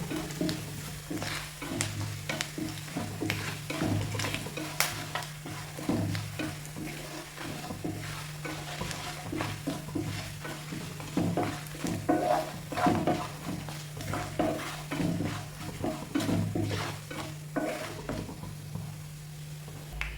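Grated coconut with dried red chillies fries in a pan for ash gourd erissery, a soft continuous sizzle broken by repeated scraping and clicking of a spatula stirring close by, with no talking.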